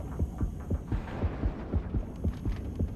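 A shark's heartbeat from the underwater game Depth thumps in steady double pulses over a droning hum, loud and near, about eight beats repeating evenly with no voices.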